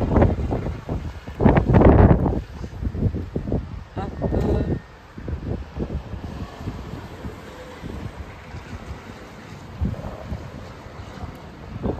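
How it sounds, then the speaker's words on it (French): Strong storm wind gusts through Lille during storm Mathis, heavy buffeting rumbles hitting the microphone in uneven bursts, loudest early on and then easing to a lower roar. "finalement au moins j'ai eu une rafale à 90 km/h"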